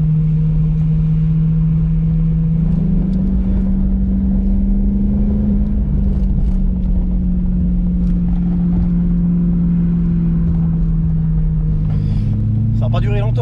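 A BMW M3 E92 V8 with an engine fault drones loudly and continuously from close by, its steady low tone rising and settling as the revs change, with faint talk over it.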